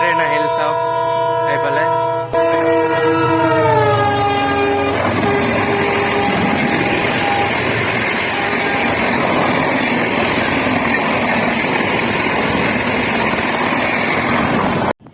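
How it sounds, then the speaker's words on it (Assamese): A loud train horn blares, then a long train rushes past close by at speed, a steady roar of wheels and rattling cars filling the rest. "কিমান লম্বা আছিল আৰু কিমান স্পীডত গ'ল ট্ৰেইনটো"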